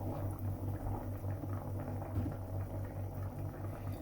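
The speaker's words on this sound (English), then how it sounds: "we're going to leave that to cook for about 5 minutes or until it starts to boil" Oha soup bubbles at a gentle boil in a pot, a faint, steady simmering with soft, irregular bubbling pops close by and no talking.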